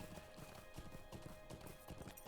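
Horse hooves clip-clop at a quick, steady rhythm as a horse is ridden through ruins in The Hobbit video game, faint and continuous over a soft ambient hum.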